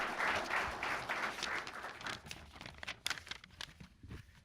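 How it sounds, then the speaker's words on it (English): A press-conference audience at a New Mexico State athletics event gives a soft, steady round of applause that lasts a few seconds and thins out toward the end, heard from a distance. "Maybe you guys can give him another round of applause for a decade of leadership"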